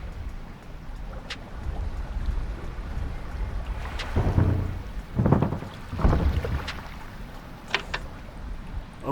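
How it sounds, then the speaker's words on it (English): Scraping and grinding against the underside of a small boat hull on open water, several rough drawn-out scrapes and knocks over a steady wind-and-water wash, no voices. "Something is scraping the bottom of the boat."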